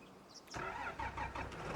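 In the Farming Simulator 25 video game, a tractor engine cranks and catches, then settles into a steady mid-pitched idle, loud and close with no voices.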